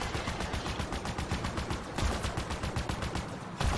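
Halo Infinite combat with dense, continuous gunfire: rapid automatic shots rattling steadily over a busy, loud battle bed for several seconds, with no clear talk.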